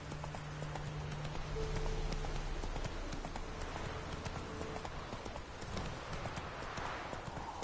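Horse hooves clip-clop at a steady galloping rhythm in The Witcher 3, loud and continuous over a busy game soundscape with a brief whinny and faint background talk.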